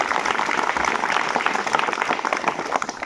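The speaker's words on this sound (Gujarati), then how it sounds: "તાળીઓ થઈ જાય રૂપાજી માટે." Applause from a crowd at a village school prize-giving, honouring a student who came first in Class 5; steady, dense clapping sustained for about three seconds, with no voices over it.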